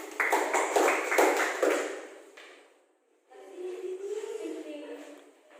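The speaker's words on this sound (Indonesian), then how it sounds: "Tepuk tangan untuk kelompok 1 dulu." Brief scattered handclaps from a small group of students in an Indonesian classroom, a few sharp claps in the first two seconds, then voices talking afterward.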